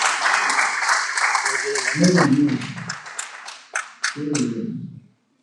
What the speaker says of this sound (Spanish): Nos despedimos dándole un aplauso al Señor